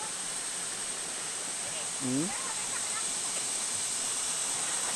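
Strong river water rushes in a steady broadband roar, loud and close throughout, with a brief voice cutting through near the middle.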